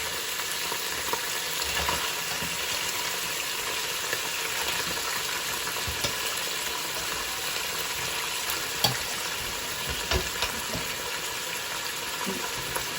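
Mutton frying in a pot with garlic, a constant sizzling hiss with scattered small pops and a few soft knocks of stirring.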